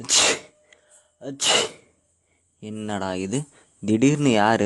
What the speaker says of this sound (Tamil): இந்த தும்மல் எப்படி வருது?